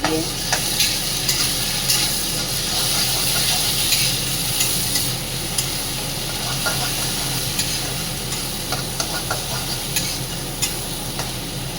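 Green chili paste sizzles and spits in hot oil in a pan while being stirred, a loud, close, continuous frying hiss with irregular scraping and crackling bursts throughout, no talking.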